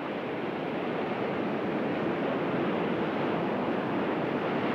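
Ocean waves breaking on a river-mouth bar about 3 metres high, a continuous dense roar of surf and wind, steady and loud with no pauses.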